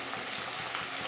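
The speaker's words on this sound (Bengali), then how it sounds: "সমস্ত সবজিগুলোকে কড়ার মধ্যে দিয়ে দিয়েছি। একটু নাড়াচাড়াও করে নিয়েছি।" Vegetables for shukto fry in a wok with a dense, steady sizzle and faint stirring scrapes, close and continuous with no talking.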